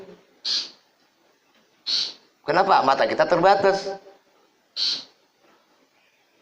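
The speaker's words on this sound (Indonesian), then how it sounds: "Burung bunyi itu." A bird gives three short, separate calls in quiet surroundings, and someone speaks briefly between the second and third.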